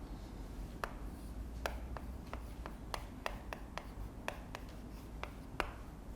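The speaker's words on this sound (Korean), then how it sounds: "여기다 써볼게요" A pen or chalk writing on a board during a civil law lecture, producing a series of sharp, distinct tapping strokes at an uneven pace over a low steady room hum.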